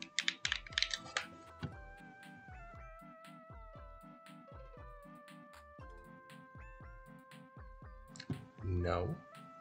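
Rapid clicking of computer keyboard keys in short bursts, heard over bright melodic background music while playing the farming game Ooblets.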